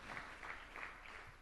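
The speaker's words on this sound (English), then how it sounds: "If we can give more claps to our last presenter for this session." An audience claps for the final presenter of a session at a World Philosophy Day 2021 symposium in Tanzania: faint, distant applause that rises and falls in a few soft, rippling waves.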